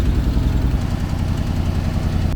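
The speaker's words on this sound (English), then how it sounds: "probably an exhaust leak" A car engine with an exhaust leak idles loudly up close with a deep, uneven rumble and a puttering, ticking pulse in the low end.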